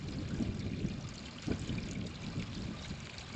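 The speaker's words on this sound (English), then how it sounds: "I can't tell you how weird it is to listen to trickling water" Gentle water trickles and pours steadily nearby during Tropical Storm Harold, a soft continuous babble with small splashes, no voices.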